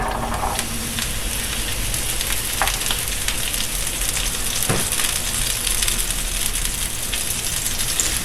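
Diced asparagus fries in about a tablespoon of olive oil in a pan for an omelette, giving a dense, even, close sizzle that carries steadily throughout like light rain on a surface.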